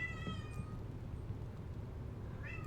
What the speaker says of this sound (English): Apologies again if the cat is being a little bit loud.